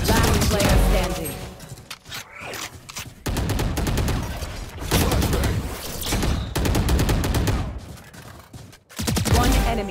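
Video game gunfire rattles in rapid, loud bursts, with several sustained volleys broken by short pauses and an occasional sharper single crack.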